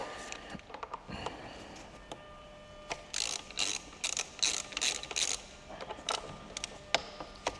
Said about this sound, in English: then literally just going to loosen this pin